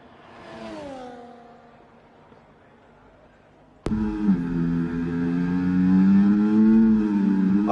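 Onboard race car engine in a racing video game at the Austria circuit: a quieter engine note at first, then an abrupt cut to a loud, sustained high-revving drone that climbs steadily under light commentary.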